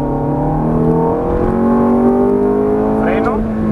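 A Ferrari F430 accelerates hard on a road near Cancun, its engine note climbing steadily through the gears with a loud, continuous rising whine, close and prominent throughout.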